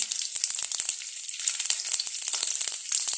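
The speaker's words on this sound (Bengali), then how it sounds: "সবার প্রথমে দিয়ে দেব আমি এখানে গোটা জিরা। গোটা জিরা দেওয়ার পরে আমি এখানে দিয়ে দেব গোটা রসুন।" Whole cumin seeds and whole garlic cloves sizzle in hot oil in a pan for a rajma dish, giving a steady, close, crackling hiss with sharp pops scattered throughout and no voices.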